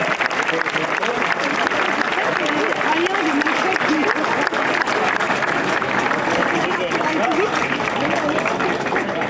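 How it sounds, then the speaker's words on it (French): A crowd applauds steadily for Australian cyclist Lucas Hamilton at the 2017 Tour Alsace stage presentation, dense clapping mixed with cheering and voices, loud and continuous throughout. "Je vous demande d'applaudir monsieur Lucas Hamilton, l'Australien."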